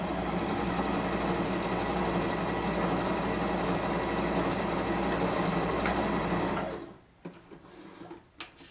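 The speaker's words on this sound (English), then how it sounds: "we're going to go ahead and just run a seam quickly down the edge of the fabric" A sewing machine stitches a quick seam down the edge of a piece of fabric, a loud, even motor whir with rapid needle chatter that runs steadily and then stops, followed by a few faint clicks and handling sounds.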